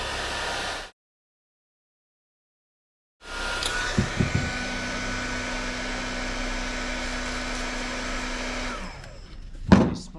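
Bauer 20V cordless heat gun heating and peeling labels off tools, a steady loud blowing whoosh with a faint hum, briefly cut off and then restarted, running close with a few small clicks and knocks.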